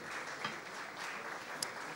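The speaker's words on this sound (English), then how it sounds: "Put your hands together, everybody." Applause from a conference audience for a panel, a soft, distant patter of clapping at a low even level, with a couple of brief sharper claps standing out.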